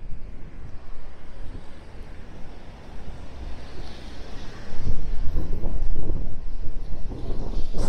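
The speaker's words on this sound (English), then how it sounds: "It's still fairly breezy." Strong wind from Storm Barra buffets the microphone on the Blackpool seafront, a rough, rumbling roar that swells and gusts louder midway through, with no voices.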